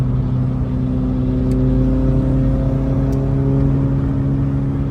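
An Acura Integra DB2 race car fitted with a GSR transmission cruising on the road during a long highway trip, a steady droning engine hum with constant road noise heard from inside the car.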